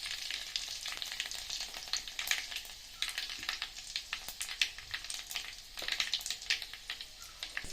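Cumin, mustard seeds and garlic fry in hot oil for a Konkan-style tomato saar, giving a dense, close crackle and spitting sizzle with quick popping bursts.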